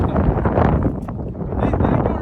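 Strong wind buffets the microphone on a hilltop at Vagamon, a steady broadband roar that runs continuously through the short stretch.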